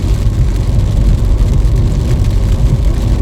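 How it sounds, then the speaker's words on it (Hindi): Heavy rain drums steadily on a car during a road trip from Delhi to Varanasi, a dense continuous wash mixed with low road rumble from the moving vehicle. "बारिश स्टार्ट हो गई है, काफ़ी तेज पड़ रही है बारिश।"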